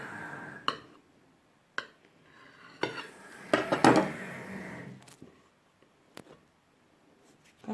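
A knife cutting through a layered rainbow cake, sharp clinks of the blade against a plate at irregular intervals with a scraping, rustling stretch in the middle, close and fairly quiet.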